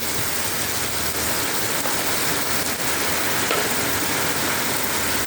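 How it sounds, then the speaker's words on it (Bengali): Heavy rain pours down in a dense, constant hiss, loud and unbroken from start to finish. "জলের কি আওয়াজ দেখেছো, ভীষণ জোরে জল বৃষ্টি হচ্ছে।"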